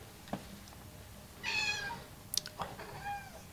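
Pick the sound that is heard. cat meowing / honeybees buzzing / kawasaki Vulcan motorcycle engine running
cat meowing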